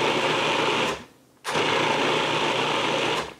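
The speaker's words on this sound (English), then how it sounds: "And now I'm just going to let it blend." A food processor blends shredded parmesan for a squash sauce, a steady loud motor whir that cuts out briefly and restarts, running continuously with no talking.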